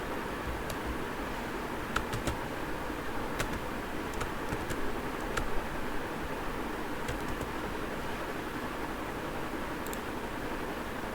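Scattered light key clicks from someone typing a verification code on a computer keyboard, faint and irregular over steady fan-like background hiss, with no speech.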